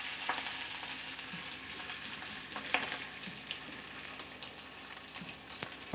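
Garlic, mustard seeds, cumin and curry leaves frying in hot oil, an even, continuous crackling sizzle with a few soft stirring knocks, close up and without speech.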